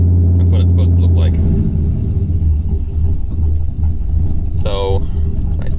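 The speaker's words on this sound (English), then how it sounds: "So if I rev it up here, it'll go away." A car engine rumbles low and steady, rising briefly as it is revved while the driver tunes it, with a persistent close mechanical hum throughout.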